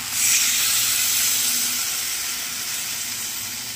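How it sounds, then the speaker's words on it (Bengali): Water poured into a pan of vegetables frying with cumin and ginger, a loud burst of steamy hissing sizzle that peaks early and settles into a steady, slowly fading hiss, close and alone. "এবার আমি জল দিয়ে দেবো।"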